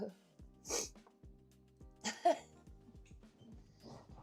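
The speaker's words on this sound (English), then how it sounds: "Those nose coughs, you know." Several short, sharp nasal coughs and snorts after smoking, close and loud, in bursts separated by quiet gaps, with a little speech around them.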